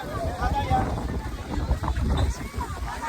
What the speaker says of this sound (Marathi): कंटिन्युअसली वारा आहे, कंटिन्यू वारा.